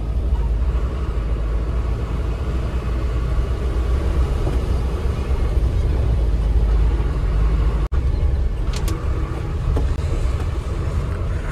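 Road traffic on village roads near a highway, heard from inside a moving vehicle as a steady low engine rumble with wind buffeting, a brief thump partway through and faint horn-like tones after it, no speech.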